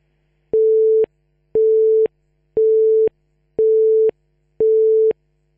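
A telephone busy signal sounds as five evenly spaced, loud steady tones, each about half a second long with equal gaps between them.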